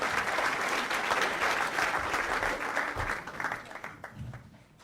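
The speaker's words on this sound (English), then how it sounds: "Round of applause for Excite." An audience breaks into a warm round of applause, thick continuous clapping that holds steady and then thins out and fades over the last second, without any speaking.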